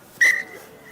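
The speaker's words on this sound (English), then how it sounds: "Referee is whistling time off here." A referee's whistle at a Friday night high school rugby match, Holy Cross versus Providence, gives one sharp, loud blast to stop the clock, then fades into quiet crowd ambience.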